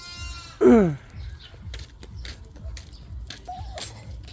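A single loud goat bleat up close, followed by quiet rustling and shuffling.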